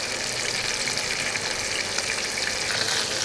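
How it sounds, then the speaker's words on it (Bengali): Fish fries in a pan, turned side to side, giving an even, close hiss of bubbling oil that holds steady throughout, with no voices. "এক পাশ ভাজা হলে একটু ওয়েট করে আরেক পাশ উল্টাতে হবে।"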